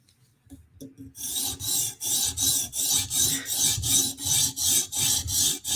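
Steady back-and-forth rasping strokes of a Chris Reeve Sebenza blade on a TSProf guided sharpener, about a dozen even, close passes in a regular rhythm after a brief quiet start, with no talk.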